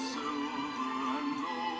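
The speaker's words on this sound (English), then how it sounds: "what you're hearing is Pandora on my computer." Traditional Christmas music plays from a computer through Pandora in a home, a steady tonal melody with sustained notes heard at moderate, even volume.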